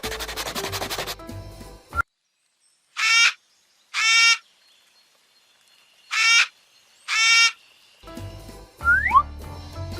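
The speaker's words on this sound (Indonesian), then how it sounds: "8 burung kakak tua berkicau" Parrots chirp in four separate bright, harmonic bursts, each short call standing clear against near silence, with louder mixed background sound at the start and end.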